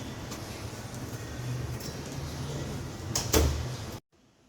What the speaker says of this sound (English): Now, I'm going to close the door to provide privacy for my patient.